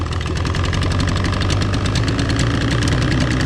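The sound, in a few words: outboard motor idling high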